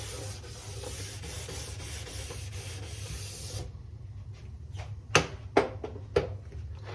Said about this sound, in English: taking the nylon brush, the brush that's not made of metal, and just scrubbing down the ski